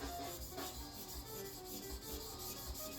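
A restored Aritsugu yanagiba knife is hamaguri-sharpened on a stone, a faint, steady rhythmic rubbing and scraping of short strokes.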